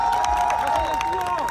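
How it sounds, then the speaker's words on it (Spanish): Crowd at the inauguration of a meat and wine fair cheering and clapping, a dense, steady wash of applause and shouts with a sustained tone running through it. "Un fuerte aplauso para mamá, por favor."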